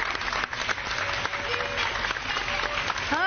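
A studio audience at a live television show applauds continuously and loudly from start to finish, with a voice talking over the clapping.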